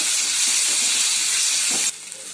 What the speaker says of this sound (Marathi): त्याला पण लालसर होईपर्यंत आपल्याला भाजायचं आहे